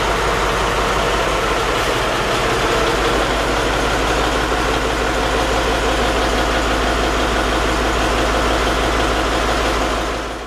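A Ganz-Mavag diesel engine of a D1 DMU train runs loud and close, a steady low rumbling drone with a throbbing pulse that holds throughout, with no talk.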